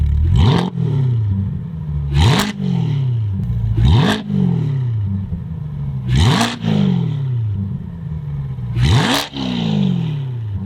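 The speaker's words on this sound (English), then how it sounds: "we'll show you exactly what it sounds like being revved" A 2020 Corvette with an aftermarket exhaust revs repeatedly at home, around five or six sharp blips rising and falling in pitch, loud and close, with idle between and no voices.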